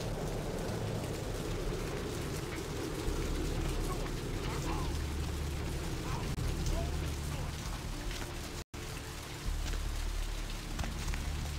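Steady rain falls in a gritty city street in the video game Vampire: The Masquerade - Bloodlines, a continuous hissing patter with low rumbling ambience, constant throughout, with talking faintly audible in places.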